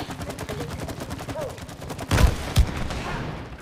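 Rapid gunfire from the video game It Takes Two crackles in quick repeated bursts, with two heavier booming shots near the end, over a backdrop of game music.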